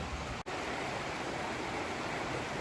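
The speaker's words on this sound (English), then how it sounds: "this is the Loyalside Creek" Loyalsock Creek flows past a day-use picnic area in Worlds End State Park, Pennsylvania, a steady broadband rush of moving water that stays even throughout, with one brief dropout near the start and no talking.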